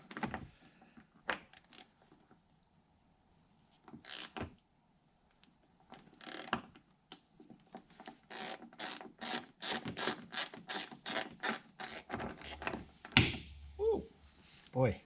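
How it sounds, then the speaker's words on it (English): A wrench scraping and rapidly rattling against a Dodge Ram car window, coming in repeated bursts that grow busier, with brief speech nearby. "don't like the sound of the wrench on the window."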